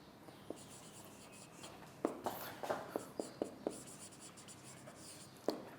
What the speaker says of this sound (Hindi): मैं लिख भी देता हूँ इधर